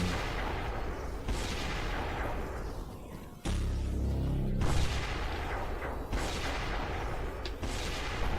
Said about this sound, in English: We go first with the 2-barrel gun